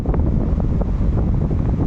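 Sea and wind at Lingayen Beach in Pangasinan, steady heavy wind buffeting the microphone over a low, continuous rumble of surf.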